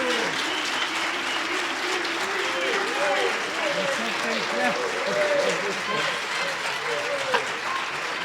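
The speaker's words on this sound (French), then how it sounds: "C'est le moment d'applaudir vos candidats" Sustained applause fills a hall at the close of a federal election candidates' debate for Bécancour-Nicolet-Saurel, an even wash of clapping from a sizable audience with murmured voices beneath it.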